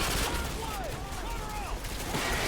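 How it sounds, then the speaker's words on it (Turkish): A P90 submachine gun fires in Call of Duty Modern Warfare 2, a rapid, continuous automatic burst that stays loud and dense throughout, with a voice faintly underneath. "Bir şarjör mermi 2 saniyede boşaltırsın adamın üstüne delik deşik."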